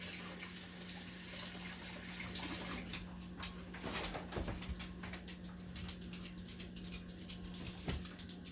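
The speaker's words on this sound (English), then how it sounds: "let me rinse my hands" Tap water runs steadily as hands are rinsed in a kitchen, a soft continuous splash with brief louder bursts as the hands move under the stream.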